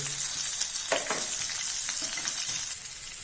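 Sliced green chili and capsicum sauté in an oiled pan, giving a steady close sizzle with a few spatula scrapes and stirring clicks, and no talking.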